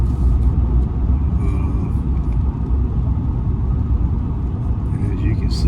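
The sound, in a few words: newly bought diesel truck driving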